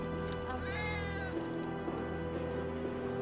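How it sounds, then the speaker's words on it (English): A single cat gives a drawn-out meow in Final Fantasy 7 Remake, rising clearly above a steady low hum of background game ambience. "That was definitely a cat."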